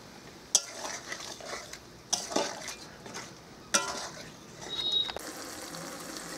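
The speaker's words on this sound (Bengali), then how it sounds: "খুব ভালো করে নাড়াচাড়া করে নেব।" Rui fish being stirred in a pan with spices and yogurt, with several sharp utensil scrapes and clinks against the pan spaced over a low cooking hiss.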